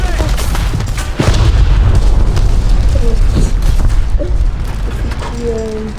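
Booming blast of a bomb going off in a tank combat video game set around a T-34, a loud low thump near the start over constant rumbling battle noise, with a voice talking through it.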